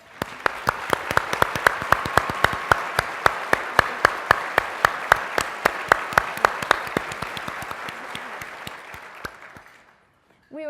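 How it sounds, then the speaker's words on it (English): An audience at a sponsor event gives a round of applause, dense steady clapping with a few sharp, distinct claps standing out. It fades out near the end, and a voice follows briefly. "Please join me in a round of applause to show our appreciation for all of our sponsors."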